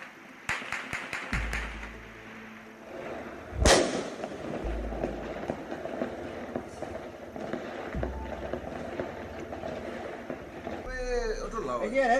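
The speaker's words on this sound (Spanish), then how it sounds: "Ahí se notan los disparos, mira." Sharp cracking gunshots from a nearby robbery scene: several rapid bangs early, one loud blast midway, and scattered pops after, with people talking over the noise.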